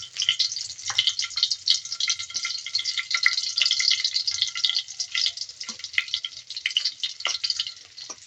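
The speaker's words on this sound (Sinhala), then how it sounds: "දැන් තෙල් ටික නටනවා. අපි ඉස්සෙල්ලා මේකට සුදු ලුණු දාගන්න ඕනේ." Garlic frying in hot bubbling oil, a steady bright sizzle with crackling pops and spatter running close and continuous throughout, with no voices.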